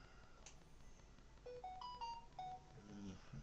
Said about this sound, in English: That's my phone telling me I'm online.